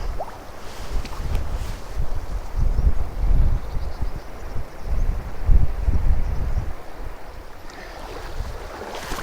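Wind gusts steadily across a shallow river, roaring and buffeting close by, with the water washing underneath and no voices.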